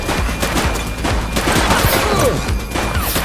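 Dense gunfire in a police shootout in the video game The Precinct, rapid overlapping shots forming a loud, continuous fusillade with voices faintly mixed in.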